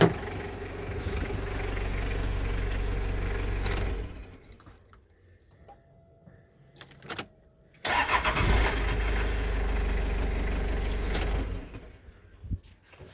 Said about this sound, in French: Ça, on se tannera jamais